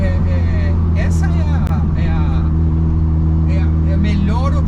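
A 1993 BMW E36 325i rear-wheel-drive drift car idles with a steady low engine drone close by, while people talk over it.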